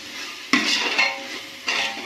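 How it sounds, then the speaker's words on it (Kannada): Mutton fries with onions and turmeric in a pot for hotel-style biryani, a steady sizzle broken by two or three sharp scraping stirs of a spoon, close and fairly loud, with no speech. "ಫ್ರೈ ಆದಮೇಲೆ ಇದರಲ್ಲಿ ಈರುಳ್ಳಿ ಜೊತೆ ಚೆನ್ನಾಗಿ ಫ್ರೈ ಆಗಬೇಕು."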